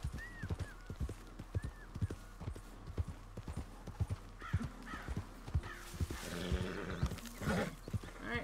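A horse's hooves clip-clop in a steady, close rhythm in Red Dead Redemption 2, with a couple of brief whinnies and a louder neigh toward the end, crows cawing faintly behind.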